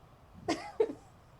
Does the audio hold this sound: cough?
yes